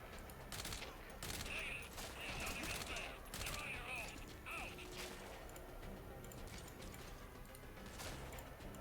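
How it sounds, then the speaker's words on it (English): Gunfire in Metal Gear Solid V: The Phantom Pain comes as a quick run of sharp, distant shots in the first few seconds, then gives way to quieter game ambience. "Who is shooting at me?"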